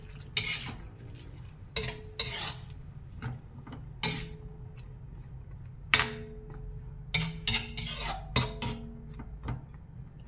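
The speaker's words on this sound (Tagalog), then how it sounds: "Tapos ating halo-haloin guys." A utensil stirs and scrapes chicken liver adobo in a pan, with dried fish added, making a series of separate metallic clinks and scrapes at irregular intervals over a low background hum.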